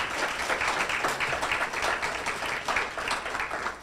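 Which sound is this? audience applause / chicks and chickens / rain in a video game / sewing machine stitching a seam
audience applause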